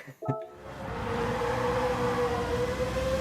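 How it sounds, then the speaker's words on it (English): A car in Gran Turismo 7 with a high-pitched, motorbike-like exhaust on a big engine, a sustained whining drone that rises after a brief bump and holds steady, fairly loud and alone. "So it's got like a really high-pitched exhaust that doesn't match what you'd expect the engine to sound like."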